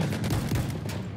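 Gunfire from the first-person shooter Battlefield 1 during a competitive Incursions match, a dense, continuous crackle of rapid shots rolling together for just over a second, loud and up close with no talking.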